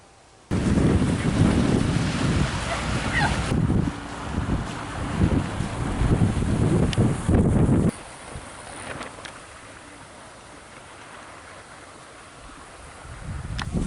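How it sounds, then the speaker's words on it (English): Strong wind buffeting the microphone at Upton Dyke on the Norfolk Broads, a loud roaring rumble for the first several seconds that drops to a quieter gusty hiss before swelling again at the end. "So it's very windy here, so you might not be picking this up too well."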